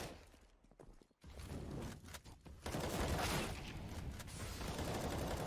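Rapid gunfire bursts in Counter-Strike: Global Offensive during a professional match between MIBR and Sharks, loud and dense with sharp onsets and a near-continuous roar after the midpoint.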